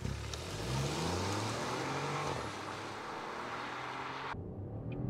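A 2024 Mini Cooper PHEV launching off the line in sport mode with max E-Drive: a rising engine and motor roar with a whining tone climbing over a few seconds, close, then cutting off abruptly.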